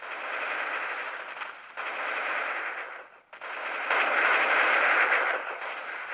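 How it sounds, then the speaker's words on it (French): Counter-Strike video game gunfire rattles in long, rapid automatic bursts, loud and dense, with a brief pause between them and no talking. "Je tire sur mon coéquipier."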